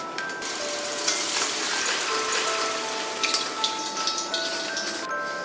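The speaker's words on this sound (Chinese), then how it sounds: "再把火开大，再把土豆片倒下去，复炸30秒" Potato slices deep-fry a second time in hot oil over high heat, a dense continuous sizzle and crackle with scattered bright pops, close and steady throughout.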